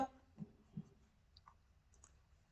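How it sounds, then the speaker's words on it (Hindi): A computer mouse clicks faintly a few times, in short, separate, sharp ticks close to the microphone, against a quiet background while navigating a web app. "अबाउट पे क्लिक किया"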